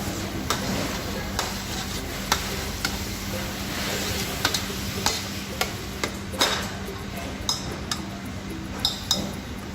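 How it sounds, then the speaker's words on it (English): Vegetables simmer gently in olive oil inside a covered pot, giving a soft continuous sizzle broken by occasional light clinks and taps of utensils against the cookware. "We don't fry the vegetable, we just cook the vegetables inside the olive oil."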